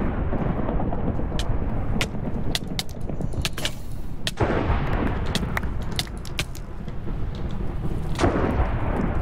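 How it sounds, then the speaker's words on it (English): Repeated lightning strikes boom and crackle in a Minecraft Hunger Games match, several sharp cracks over a constant loud rumbling roar that lasts the whole span, with no voices. "Struck by lightning!"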